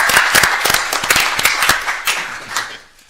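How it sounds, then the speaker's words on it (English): A round of applause at a county commission meeting, a small group clapping with distinct individual claps, steady for a few seconds and then trailing off. "I want to give you a round of applause if y'all would join me"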